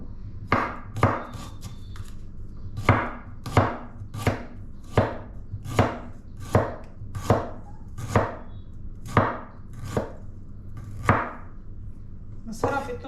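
A knife chops steadily through catfish belly on a cutting board, about a dozen sharp, evenly spaced thwacks ringing out close and clear over a quiet background hum.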